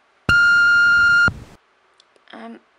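A voicemail greeting ends in a single loud, steady electronic beep lasting about a second, then a short pause before a brief snatch of a caller's voice.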